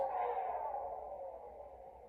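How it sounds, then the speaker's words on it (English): A Power Rangers Lightning Collection Power Sword toy from Mighty Morphin Power Rangers hums softly while switched on, a steady light tone that fades slightly over a couple of seconds with no talk. "you can hear a very light humming sound"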